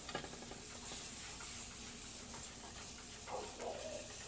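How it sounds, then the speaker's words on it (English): Meatballs sizzle in a hot pan with a constant crackling hiss, a few stirring or turning sounds, and no talking. "You want to put them in a hot pan"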